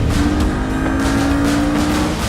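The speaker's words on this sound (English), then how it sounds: "the sound is more intense, sportier, racier, and the backfire is also a lot more noticeable." A Porsche 718 GTS Cayman or Boxster engine runs loud and close in a steady, sustained drone with a racy tone, no distinct pops standing out.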